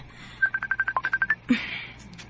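A phone rings with an incoming call, a quick run of about a dozen evenly spaced electronic tones followed by a short burst, faint and close.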